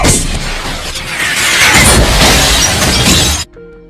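A missile strike explodes in a street action scene from the film Gemini Man, a loud sustained roaring blast with crackling, shattering debris that fills about three and a half seconds before cutting off abruptly to near silence.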